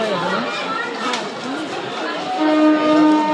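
Crowded station chatter with voices talking throughout, and a brief horn-like tone near the end as a train sits nearby.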